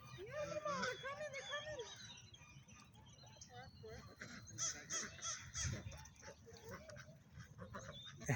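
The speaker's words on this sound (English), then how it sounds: "They're called a gray lag goose" Greylag geese give honking calls nearby, a string of harsh, nasal honks in the first couple of seconds, then scattered calls and bird noises with people talking over them.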